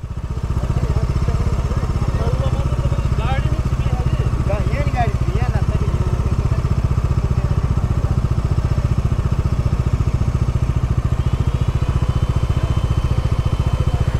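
A scooter engine drones steadily with a rapid pulsing beat while riding a slippery, muddy highway road, close and loud throughout, with people talking over it.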